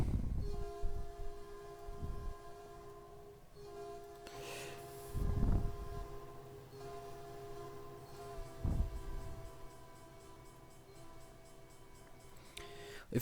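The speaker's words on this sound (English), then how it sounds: "So I believe it's called Metrolink F59 horn replacement" Metrolink F59 locomotive horn mod in Train Simulator 2016 sounds a multi-note chord held for several seconds. It is broken by short, louder blasts over a low rumble of the train.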